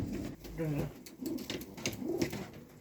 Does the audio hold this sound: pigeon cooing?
yes